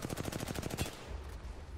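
Rapid automatic gunfire from the video game Apex Legends plays as a quick burst of about a dozen shots in under a second. It fades into a low rumble, quiet overall.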